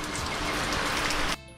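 Rain falls outside in Jamaica, a dense, even hiss of drops pattering on surfaces, close and steady for over a second before cutting off abruptly.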